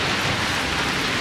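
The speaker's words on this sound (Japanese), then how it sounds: "ひょうが降ってきましたよほら見てください" Hail pelting down in Asakusa, Tokyo, a dense steady hiss and patter of ice on surfaces, loud and continuous with no voices.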